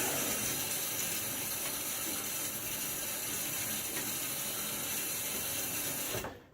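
A bathroom tap runs for wetting the face during a wet shave, a steady close hiss of flowing water with faint ratcheting clatter beneath, cutting off abruptly at the end.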